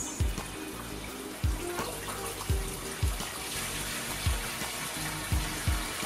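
Water pours steadily into a shrimp aquarium for a full water change, a continuous close gushing stream with periodic splashing surges and low gurgles, no voices.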